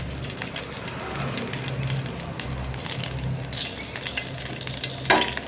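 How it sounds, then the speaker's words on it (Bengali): Cumin seeds and bay leaves sizzle in hot oil for village-style home cooking, stirred with a utensil. A continuous fry hiss runs under soft scraping, with a sharp clink near the end. "জিরা তেজপাতা দিয়ে একটু নাড়তে থাকবো বন্ধুরা।"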